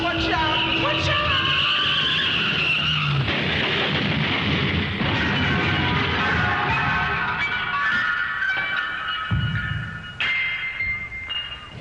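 A runaway garbage truck skids as a sound effect within a song, with a long, loud tire squeal and screech running over music for several seconds before fading into rougher bursts.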